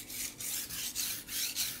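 Knife blade ground along one side on a sharpening stone, a rhythmic rasping scrape repeated about five times in quick back-and-forth strokes, close and fairly quiet with no talk.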